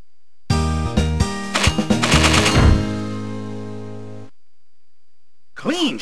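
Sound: gunshot from Trophy Hunting: Bear & Moose video game

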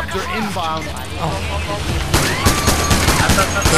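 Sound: gunfire in the video game PAYDAY The Heist

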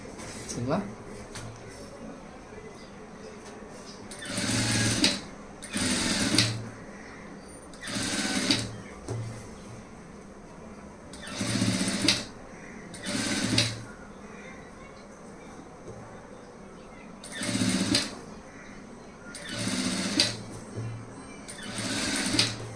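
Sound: sewing machine stitching thread piping onto fabric

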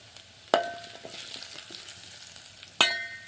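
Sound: seasoning and garlic sizzling in hot oil

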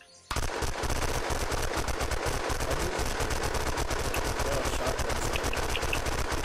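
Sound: shotgun firing in the video game Unturned

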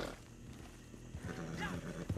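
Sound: bear roaring in a video game

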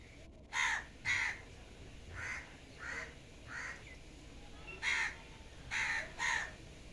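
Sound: crows cawing while drinking water

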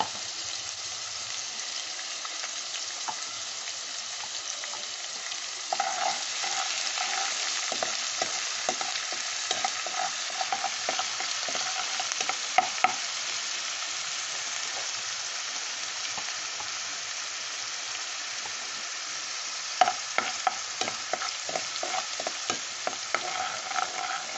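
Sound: onion frying in a pan

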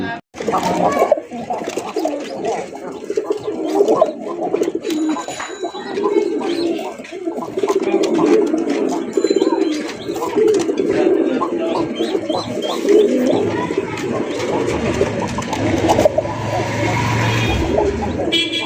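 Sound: domestic pigeons cooing

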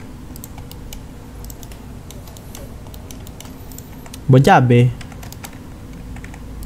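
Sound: computer mouse and keyboard clicking

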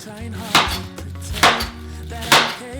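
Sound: chopping onion and cabbage with a knife

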